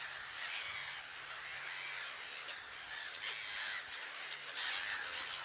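A large breeding colony of birds and chicks, a dense, constant chorus of harsh squawks and caws from many birds at once, steady and unbroken with no voices.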